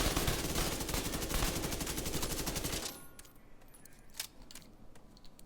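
An SMG in The Division 2 empties a full magazine in one rapid, loud burst of automatic fire lasting about three seconds, followed by a few scattered metallic clinks and small impacts.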